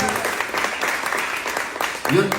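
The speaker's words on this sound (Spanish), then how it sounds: "Un fuerte aplauso para los universitarios, músicos." Church congregation applauding university students and musicians during a sermon, a steady broadband wash of clapping under a voice that speaks over it near the end.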